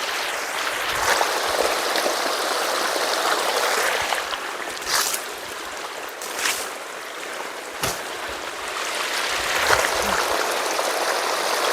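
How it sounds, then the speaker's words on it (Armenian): Water splashes and trickles steadily onto plants and soil, a continuous broad wash with a few brief knocks and drips. "էլի ընդհանուր սենց ջրելու եմ, պետք է ջրենք, խոնավությունը պահենք,"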